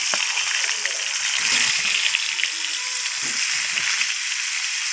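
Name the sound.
pointed gourd (potol) frying in oil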